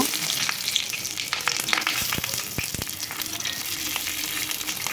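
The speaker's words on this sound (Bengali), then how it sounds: "লো টু মিডিয়াম আঁচে আমি এগুলোকে ভেজে নেব" Hilsa fish parcels fry in mustard oil over low to medium heat, making a dense, even crackling sizzle with quick pops and ticks scattered all through.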